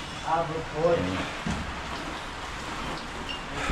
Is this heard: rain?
yes